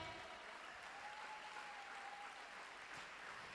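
An audience at a nursing summit breaks into a steady wash of applause to welcome a professor on stage, sustained and even, heard from a distance without speech.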